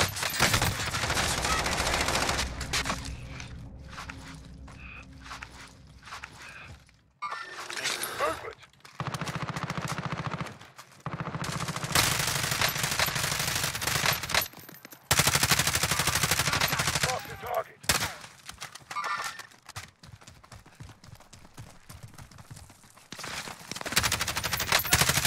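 Gunfire in the video game Warzone crackles in repeated bursts and sustained automatic volleys, some loud and close, others quieter, with pauses between, while players talk over the shooting.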